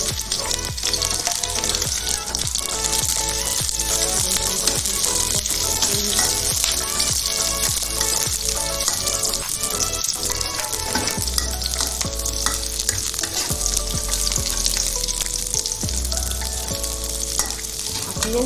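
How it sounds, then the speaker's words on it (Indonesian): Shallots and garlic sautéing in hot oil in a pan, giving a loud, continuous sizzle with stirring scrapes over a steady tonal backdrop. "sesudah itu kita sediakan minyak untuk menumis. Pertama-tama kita taruh bawang merah, bawang putih"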